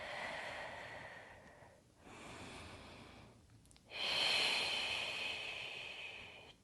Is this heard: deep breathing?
yes